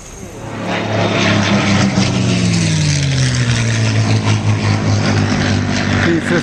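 A P-51 Mustang's propeller engine roars close by at an airport, a loud sustained drone whose pitch sweeps downward as the aircraft passes, then settles into a steady throbbing hum with no voices.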